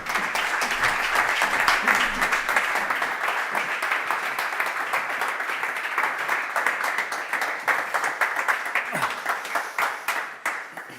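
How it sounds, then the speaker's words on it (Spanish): An audience applauds at a Basque Third Social Sector Day event, with steady dense clapping that runs for about ten seconds and then thins into scattered individual claps. "aplauso"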